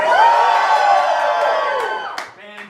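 An improv comedy audience erupts in loud cheering, whooping and yelling, a dense roar of many voices that swells at the start and then fades out.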